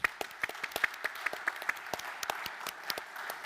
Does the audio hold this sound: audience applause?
yes